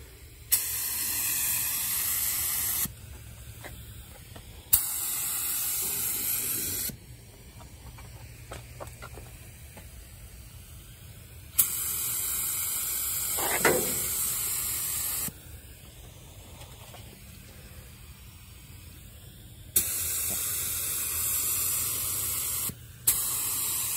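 A spray gun lays a light first coat of base colour, mixed 2:1, onto a Dodge Dart Sport. Long steady hissing passes sound close and loud, broken by short pauses with a faint background hum.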